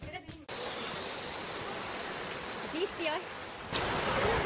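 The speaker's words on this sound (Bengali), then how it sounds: "এখন কিন্তু বাইরে প্রচুর বৃষ্টি হচ্ছে" Heavy rain falls outside a village home, heard from indoors as a faint, steady hiss that continues throughout, with a few soft indoor sounds over it.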